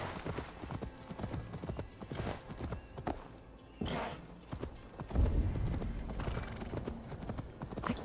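Hooves clip-clop in a steady quick rhythm across hard ground in the video game Assassin's Creed Valhalla, with a brief snort or whinny partway through.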